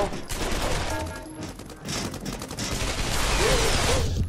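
Rapid bursts of PP90 submachine gun fire in a VR gun game, loud and chaotic with dense repeated shots and a voice talking over them.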